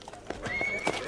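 An Arabian horse whinnies nearby, a rising then wavering neigh over a short stretch of soft background noise.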